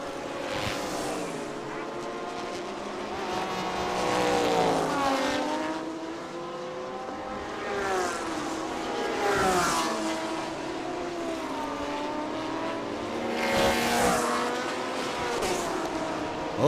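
Race cars circulate a circuit during a Thailand Super Series race, engines rising and falling as they pass close by with gear-change whine and repeated passes, under continuous commentary.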